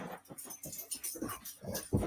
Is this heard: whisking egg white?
no